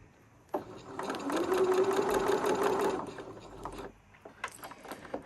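A sewing machine stitches across a bunched-up fold of fabric during mending, a steady fast whirring run of about two seconds that stops abruptly, followed by a few faint handling clicks.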